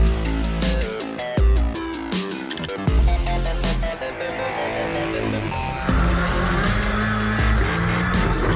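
Several race cars, Subaru among them, roar loudly around a track in a qualifying event, engines revving and shifting with tire squeal, one car sweeping close past midway through.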